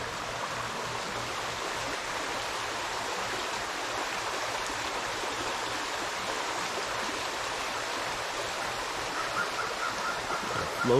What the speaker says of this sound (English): I love coming down to this creek.